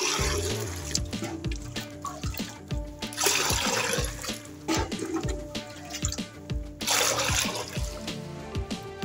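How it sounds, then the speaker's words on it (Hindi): Water poured from a container onto mustard oil cake fertilizer, a splashing, trickling pour with uneven bursts of louder gushing, close and alone without talk. "पानी डाल करके"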